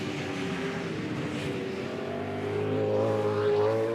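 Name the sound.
V8 Supercars racing at Eastern Creek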